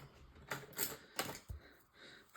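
A few crisp, snipping cuts through paper, spaced irregularly, close by and fairly quiet, with no talking.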